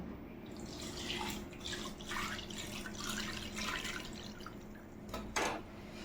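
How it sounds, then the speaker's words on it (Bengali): Coconut water poured into a bowl, a soft trickling and splashing stream that swells and fades in several pulses, quiet and close, ending with a short stronger splash. "এবার ডাবের জলটা দিয়ে দেব"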